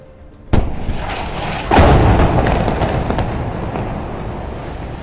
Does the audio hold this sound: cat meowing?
no